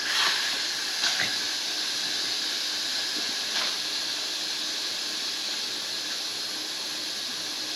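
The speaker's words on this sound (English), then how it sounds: "We're going to release the rest of the pressure." Steady, loud hiss of steam venting from an Instant Pot pressure cooker after cooking pork for sisig, with a few brief squealing spikes early on over a continuous high rush.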